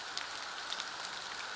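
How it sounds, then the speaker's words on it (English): Steady rain falls outdoors on a Pacific Northwest trail among evergreens on a cool day, a soft continuous patter with a few slightly louder drops, no voices. "on rainy days like this in the Pacific Northwest"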